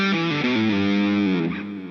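Electric guitar, a Les Paul, played through distortion: a sustained, gritty chord-like line shifting through a few notes, loud and close, fading slightly at the end.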